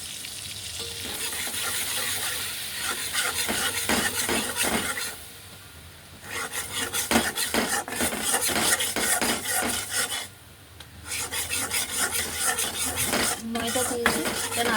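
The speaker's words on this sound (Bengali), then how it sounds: "ময়দা দিয়েছি, এটা নাড়াতে থাকতে হবে," Flour is stirred in a pan for white sauce pasta, with constant rhythmic scraping of a utensil against metal over a sizzle. The scraping pauses briefly twice, then resumes loud and close.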